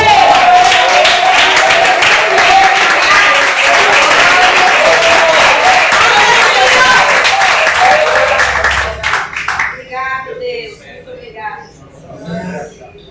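A large church congregation applauding loudly and steadily for several seconds, then the clapping thins out and fades, with a few voices afterward.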